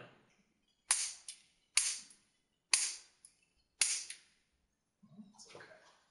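A homemade methanol cannon fires four sharp, loud bangs about a second apart, each with a short decaying tail, followed by a weaker, ragged burst near the end amid near silence.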